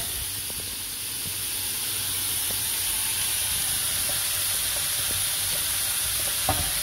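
Garlic browning in a little oil in a pan while cooking a tagine, a steady soft sizzle and hiss with occasional faint clinks, no one talking.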